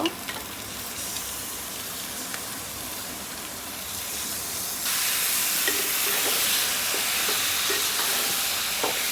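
Duck meat and potatoes fry in a pan with a steady, close hiss of sizzling oil that grows noticeably louder partway through and continues without talking.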